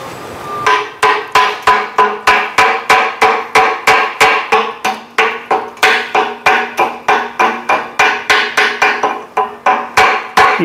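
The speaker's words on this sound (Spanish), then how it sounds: "Voy con la ayuda de un martillo, voy a quitarle la poca escoria que tiene en el momento." Hammer knocking slag off a cut rear axle shaft end, loud sharp metallic blows struck in a fast, even rhythm, about three per second, continuing close up without any talking.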